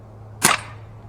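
A single sharp shot from an Umarex UX 357 CO2 double action revolver firing BBs: one crisp crack with a brief pop of gas, close and alone against a quiet background.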